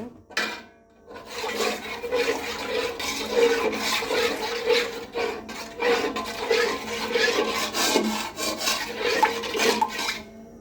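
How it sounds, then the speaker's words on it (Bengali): A spoon stirring and scraping through spice paste with sour yogurt and tomato sauce in a cooking pot for traditional chicken biryani, a steady wet rasping and churning that continues loudly and close for about ten seconds. "এবার মশলাটা ভালোভাবে মিক্স করে নেব।"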